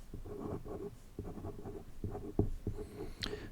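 Notes written on a board in a thermodynamics lecture: repeated scratchy strokes in short bursts with brief pauses between them, close and moderately loud, ending with a small tap and a squeak.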